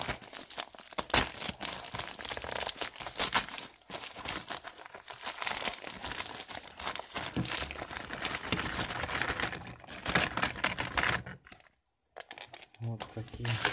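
A parcel of G9 LED bulbs from AliExpress is torn open, with dense crinkling and tearing of plastic packaging close by, irregular crackles and rips filling the whole stretch and a brief pause near the end.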